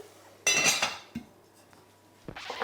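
A metal lid set onto a cooking pot of ratatouille: a bright, ringing clatter up close, then a small knock, followed by another brief clink and rattle a moment later.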